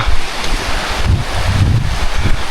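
A river in Gyumri, Armenia rushes with a steady broadband roar that stays close and loud, heavily buffeted by wind noise on the microphone throughout.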